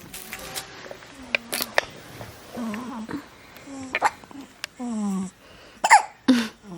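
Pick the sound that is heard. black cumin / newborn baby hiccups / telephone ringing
newborn baby hiccups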